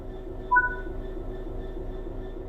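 A train in the video game Train Sim World 4 rumbles steadily as it moves off, with a low continuous drone, a faint high whine and one brief brighter clunk near the start.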